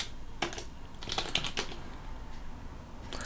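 Keys clatter on a computer keyboard as a pacman install command for Rust is typed on Arch-based Linux, scattered close-up clicks in short bursts over a quiet room hum.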